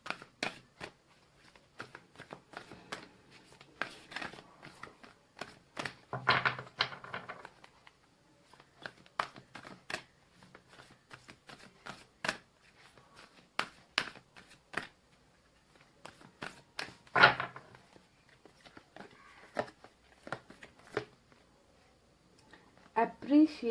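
Energy oracle cards are shuffled and drawn from a deck during a tarot reading, giving soft scattered flicks and rustles under intermittent talk.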